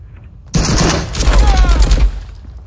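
Distant video game gunfire over a military depot map, a sustained burst of overlapping shots and rolling echoes lasting about a second and a half, loud against quiet background.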